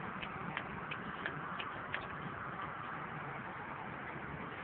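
The hazard flasher of a 2007 Toyota Camry LE ticks in a steady, quick rhythm of faint clicks over a soft idling background hiss, then fades into the low hum.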